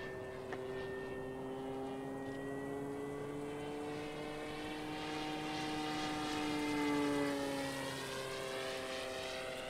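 An RC Czech Mate model airplane flies overhead, its engine a faint, steady droning whine that shifts in pitch as it passes, swelling slightly louder before easing off.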